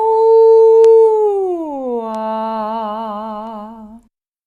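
A human voice imitates a wolf howl as a vocal warmup exercise, holding a steady sung tone and then sliding down in pitch into a wavering, vibrato-laden howl that cuts off after about four seconds.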